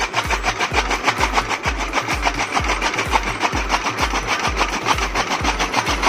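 A Massey Ferguson 135 tractor drives a toka chaff cutter through its PTO shaft, chopping buffalo fodder. A loud, fast, regular chopping beat rides over the steady engine drone, close and continuous without speech.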